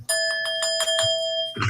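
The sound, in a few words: bell being rung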